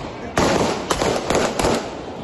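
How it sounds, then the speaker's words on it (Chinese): Gunfire aimed at the Haitian prime minister's motorcade outside a church during an Independence Day event: four sharp, loud bangs in quick, irregular succession over a noisy background. "但此刻枪响还是一声接一声朝车队开枪"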